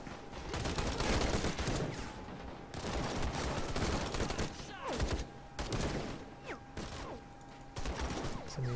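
Rapid gunfire bursts and scattered shots in the Call to Arms war game, repeated volleys with short pauses throughout, under occasional speech.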